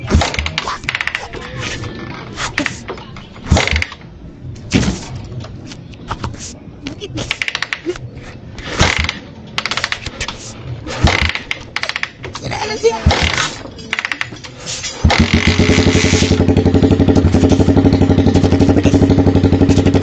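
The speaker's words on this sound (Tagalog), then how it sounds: "So, sipa at aantayin ko lang siya umandar." A Suzuki Thunder motorcycle being kick-started, with repeated clattering kicks and sputters that catch at the end into a loud steady idling engine, and a voice speaking at times between the kicks.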